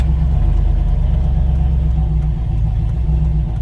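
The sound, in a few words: cammed Chevrolet Silverado 4.8 LS engine with Summit 8720 cam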